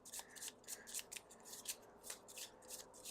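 Cards from a Gloomhaven board game deck being shuffled by hand, a quiet run of crisp riffling and flicking bursts repeating steadily throughout, close and soft with no talking.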